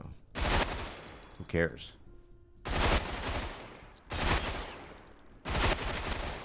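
The BKG submachine gun in the shooter game Ghost Recon Phantoms fires in four loud, rapid bursts, with short pauses between them. A man's brief remark comes in the first pause.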